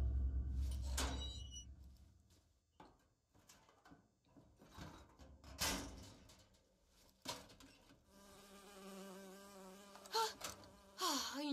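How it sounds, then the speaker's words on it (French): Insect buzzing in BioShock Infinite, a bee droning in repeated passes of varying loudness over game sounds and music, with no voices. "Oh, une abeille. J'ai horreur de ça."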